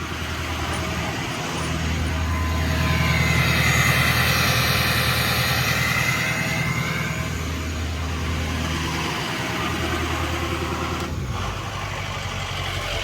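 A 6.0 diesel truck engine idles steadily at normal idle after a high idle switch install, a continuous close rumble with a broad whooshing hiss of fan or turbo air layered over it, with no talking.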